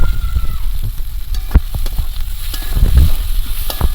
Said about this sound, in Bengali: কাঁচা লঙ্কা পেঁয়াজ রসুন সব ভাজা হয়ে গেছে ব্রাউন কালার হয়ে গেছে